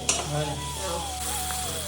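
Onions fry in oil in a kadai, giving a steady close sizzle with light stirring and no talking.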